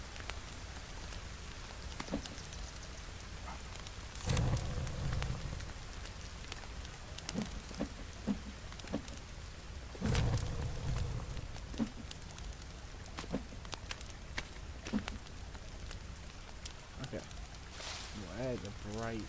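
Steady rain falls in the survival video game The Forest 2, a continuous soft hiss of drops spread across the whole stretch, with a player's voice talking intermittently over it and occasional thumps and clicks.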